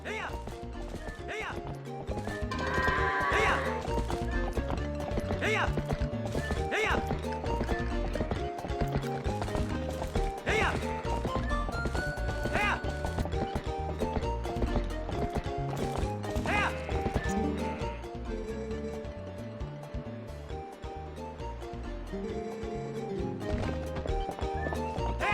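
Horse whinny and clip-clop of hooves in the video game The Legend of Zelda: Twilight Princess HD, heard over a continuous bed of background music, with a few short neighs and hoof clatters standing out against it.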